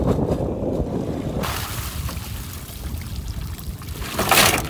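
Freshly harvested mussels poured out on a boat, a rushing wet cascade over steady engine and water noise, with a louder splashing surge toward the end.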